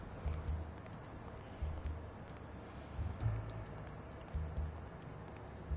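Steady rain falls in the Blacksad: Under the Skin video game as the character walks through an alley. A quiet, even hiss is broken by soft, regular footfall-like thumps.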